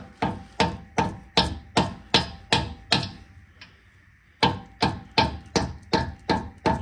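Metal-on-metal hammering on a socket and extension to drive a front axle shaft out of a Lexus GX470: a loud, steady series of sharp strikes, a brief pause, then another even run of blows.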